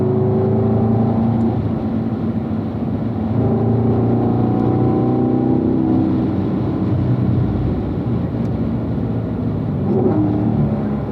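A car at speed on a race circuit, its engine droning steadily and loud as it accelerates and shifts up from fourth to fifth gear, with a brief drop in pitch at the change.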